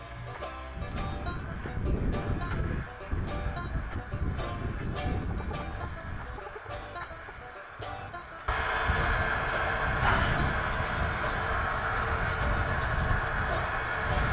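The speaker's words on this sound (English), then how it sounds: "In the background, you hear the dynamo of the 493 going off nice and loud" Dynamo of steam locomotive 493 on the Durango & Silverton line at Silverton, a steady loud mechanical whine and hum close by, rising sharply partway through amid rail-yard noise and clicks.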